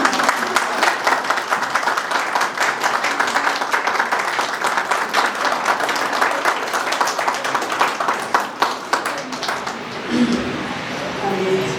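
A church congregation at a weekly service in Kuwait applauds, dense rapid clapping from many hands that runs strong for about ten seconds before tapering off, with a voice speaking near the end.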